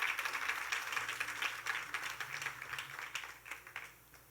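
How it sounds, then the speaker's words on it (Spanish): A church congregation applauds during a pastor's sermon, a steady, fairly soft patter of many hands clapping that rises and falls in waves over about four seconds, heard alone without talking. "Dale un aplauso al Señor."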